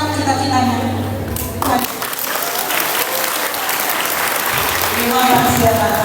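An audience at a meet-and-greet with champions in Bali breaks into applause, a dense burst of clapping that dips briefly and then swells again, loud and close, with a voice heard over it.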